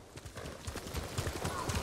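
Horse hooves clip-clop in a quick uneven rhythm in the video game Ghost of Tsushima, close and moderately loud, over a soft background hum.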